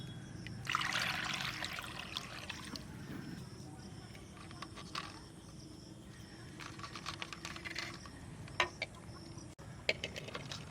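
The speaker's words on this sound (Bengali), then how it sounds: "ডিমটা প্রথমে আমি ধুয়ে নেব।" Eggs rinsed by hand under running water in a home kitchen, a steady trickle and splash with small knocks and rubbing sounds, close and moderately loud, with quieter gaps between bursts.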